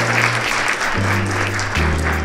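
Conference audience applauding a professional association's president, a continuous wash of clapping with a sustained low hum running beneath it, steady and fairly loud throughout.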